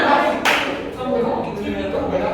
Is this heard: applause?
yes